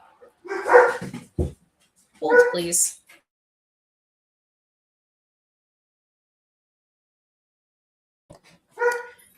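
Dogs bark indoors in short sharp bursts, two clustered at the start and one more after a long silence, with a person speaking briefly in between.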